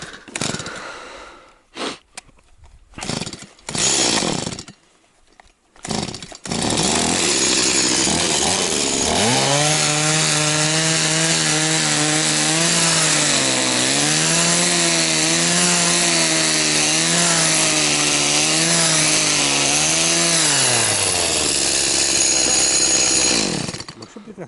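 A chainsaw sputters in a few short bursts, then revs up and runs steadily at a loud, close whine, its pitch dipping and rising as it cuts.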